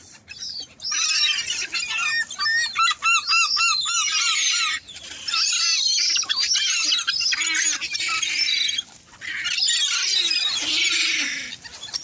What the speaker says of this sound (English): There are seagulls, the big seagulls there, white seagulls,